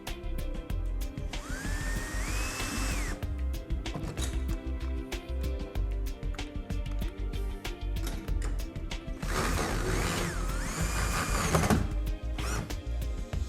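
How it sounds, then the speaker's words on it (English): Power drill pre-drilling holes and driving the supplied fasteners into a CubeSaver track bulkhead, two loud whirring bursts with rising and falling pitch as the screws bite, separated by steady background noise. "We're going to pre-drill and screw in with the fasteners provided"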